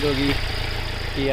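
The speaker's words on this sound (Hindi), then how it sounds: "मैं एक बार आपको कार ऑन करके दिखा देता हूँ और इंजन नॉइस भी सुना देता हूँ।" The 1.5 litre CRDI 16V diesel engine of a Kia Sonet HTX 2022 idles with a steady low clatter and hum, close by, while someone talks over it.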